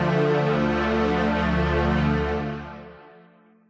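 Reason 6's Dark and Mellow pad patch, played completely dry with no effects. A single sustained, warm chord holds steady and then fades out over the last second.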